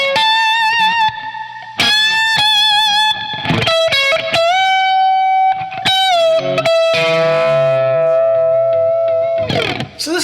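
Electric guitar played through the clean channel of a Bad Cat Jet Black amp with light compression, a little gain and amp reverb, ringing sustained notes and chords, loud and up front with no voices.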